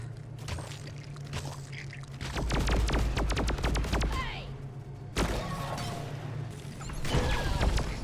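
Rapid weapon fire from the co-op mining shooter Deep Rock Galactic crackles in dense bursts while a player cycles through different guns, the sharp shots stacked over a low droning hum and occasional clanks.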